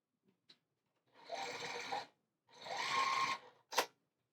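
Sewing machine stitching quilt blocks together for a flying geese quilt, two short faint runs of whirring stitches separated by a pause, ending with a sharp click.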